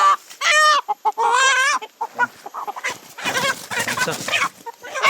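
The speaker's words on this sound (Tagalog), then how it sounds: "Nakalupad ang manok." A white chicken clucks and squawks loudly and close by, in several sharp bursts followed by a run of rapid cackling calls.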